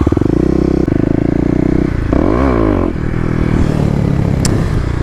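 A Kawasaki KLX250 dirt bike spinning its rear wheel without traction in a mall parking lot, the single-cylinder engine loud and close, throbbing and revving up and down while the tire scrapes and clatters.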